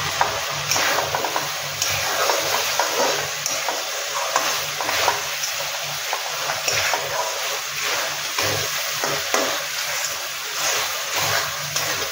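Cluster bean (gavar) curry with garam masala frying in hot oil in a home kitchen, as the oil begins to separate; a steady, close sizzle with bubbly crackle and occasional stirring scrapes runs throughout.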